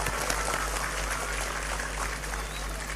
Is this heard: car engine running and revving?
no